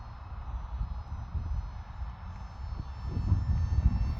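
A small Mini Eachine F22 Raptor four-channel RC jet runs its motor at about 60% throttle, a steady low droning hum that grows slightly louder toward the end.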